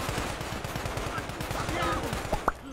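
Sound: gunfire in a video game

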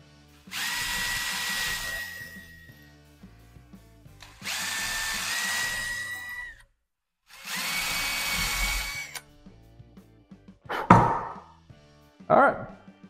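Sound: power drill drilling pilot holes in guitar

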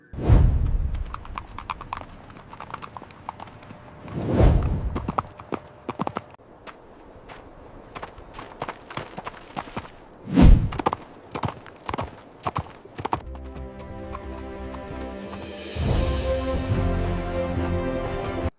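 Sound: horse hooves clip-clopping in AI-made horse riding video

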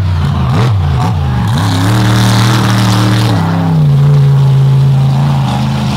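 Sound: Ford monster truck Toxic 2.0 engine revving after a jump

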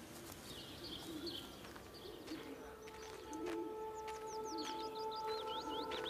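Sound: birds cooing, from the video game Everybody's Gone To The Rapture

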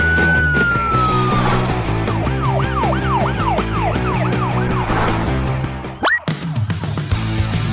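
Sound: police car siren in a children's cartoon

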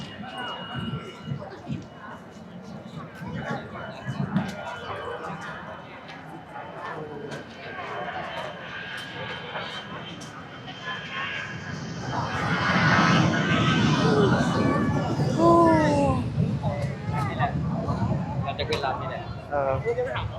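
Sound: red air force airplane flying

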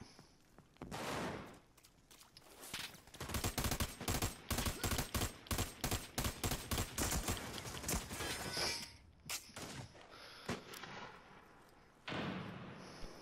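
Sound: sniper rifle gunfire in video game America's Army: Proving Grounds

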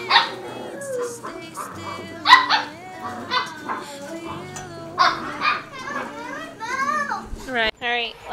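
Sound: puppies

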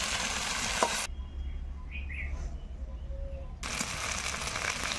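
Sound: spices frying while being stirred in pan

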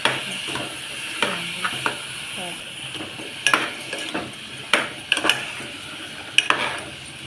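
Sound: masala and val beans frying in oil

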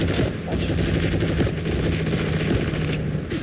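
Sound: gunfire in the video game Heroes and Generals

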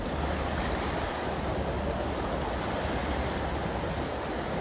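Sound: rising flood water of a river

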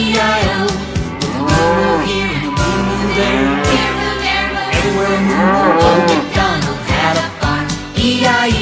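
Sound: cow mooing in Old MacDonald song

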